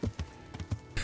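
Horse hooves in the Kingdom Come: Deliverance video game gallop as a rapid series of soft, muffled thuds in an even rhythm, fairly quiet.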